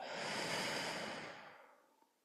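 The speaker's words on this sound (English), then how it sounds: "Slow breath in and out." One slow, steady breath in a restorative yoga class, a soft airy rush held close for about a second before fading out gently into quiet.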